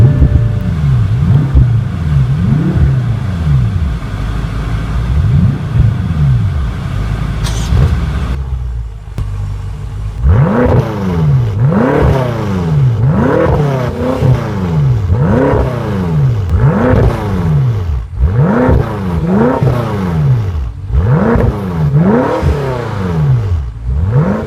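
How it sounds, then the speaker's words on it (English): A 2014 BMW M5 F10, rear-wheel drive, starts up loud and close, then is revved repeatedly in sharp rising-and-falling bursts over a steady idle, with no talking. "let's start it up and see how it sounds"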